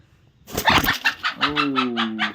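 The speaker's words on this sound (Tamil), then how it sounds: "இப்போ ஒரு கோழி கூட அடைஞ்சிருக்கு பாருங்கள்" A hen settled in a nest box to lay eggs gives a quick run of close, fairly loud clucks, then a sustained, tonal drawn-out call that holds to the end.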